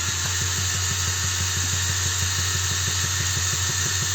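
A Heimerdinger LB180 gyroscopic cordless screwdriver spins steadily at 370 rpm, a loud, even motor whine with a fast regular ticking pulse throughout and no pauses.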